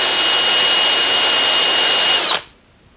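A power drill whines steadily at high speed for a couple of seconds while starting a hole before tapping threads on a 1917 Avey drill press, then abruptly stops, leaving near silence.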